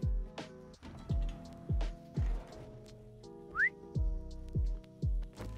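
In the 7 Days to Die video game, a steady series of short whistled tones repeats in a regular rhythm, with one quick upward-sliding whistle partway through, all fairly quiet and without talk.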